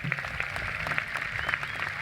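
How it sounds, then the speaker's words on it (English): A round of applause from a high school graduation crowd, steady dense clapping at moderate distance with scattered sharper claps, no voices over it. "Let's have a round of applause for our lovely junior honor escort"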